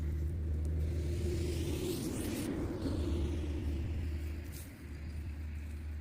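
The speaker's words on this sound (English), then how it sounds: "I apologize for any road noise." Steady low rumble of traffic on a busy road beside a garden, continuous and fairly loud, with a vehicle swelling past midway.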